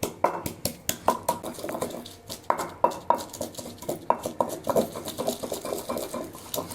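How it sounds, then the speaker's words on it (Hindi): Garlic, ginger and green chili pounded in a dori danda mortar and pestle, a steady run of sharp, close knocks about two to three per second over nearly seven seconds, with no talk. "ये है हमारे पास दौरी डंडा और आज हम बनाएंगे दौरी डंडे में मज़ेदार सा इंस्टेंट लहसुन,"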